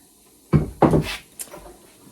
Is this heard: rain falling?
no